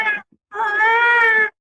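A person's voice imitates a cat meowing: a short mew, a brief pause, then a longer drawn-out meow, close and clear with nothing else behind it.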